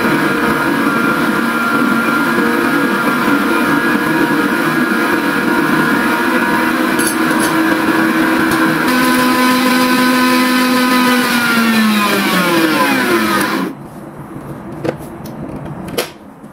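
An electric hand mixer whips cream at top speed, a loud steady motor whine that slides down in pitch before cutting off near the end, leaving faint clicks.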